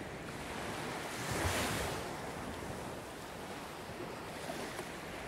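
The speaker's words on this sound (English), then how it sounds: "surrounded by the sound of the waves crashing onto the shore" Ocean waves roll and crash onto a beach shore at night, a continuous broadband wash with one fuller surge swelling early, then steady surf hiss underneath, no voices.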